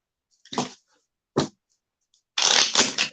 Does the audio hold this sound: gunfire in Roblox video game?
no